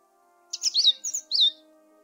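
A bird chirps in the game The Book of Unwritten Tales 2, a quick run of several high, clear tweets close by over a faint steady hum, with no speech.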